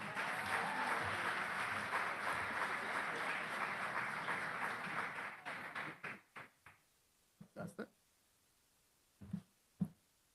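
Audience applause at a 2024 commencement ceremony honoring certificate and diploma graduates, a dense sustained clapping that fades after about five seconds into a few scattered, isolated claps.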